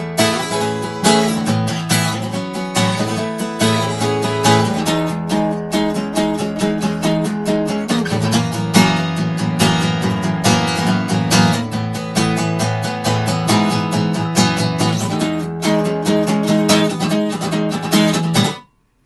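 Guitar plays the pre-chorus of a song, a dense run of strummed and picked chords with steady rhythmic attacks, loud and close, ending abruptly.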